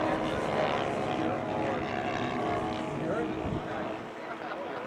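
A silver B-25 Mitchell twin-engine bomber flies at an air show, its propellers giving a steady, droning rumble at moderate distance that fades slightly toward the end.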